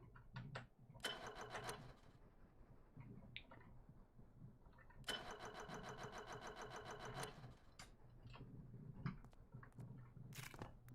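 A diesel engine in the Stormworks video game cranks in two buzzing, mechanical bursts, the second longer, separated by quiet clicks and faint shuffling, all at low volume.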